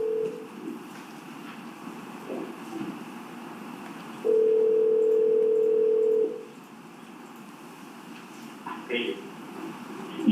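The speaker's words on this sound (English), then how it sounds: "It's a call from Catherine McManwa to Charles Adelson at 10:42 a.m." Recorded phone call played in a courtroom, a steady telephone tone sounding for about two seconds amid a hissy line and faint clicks, with low background voices running under it.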